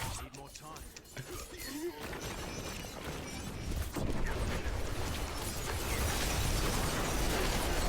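Diablo 4 gameplay with bursts of explosions, popping blasts and clanking, mechanical effects that build into a dense, continuous roar, while a voice talks faintly underneath.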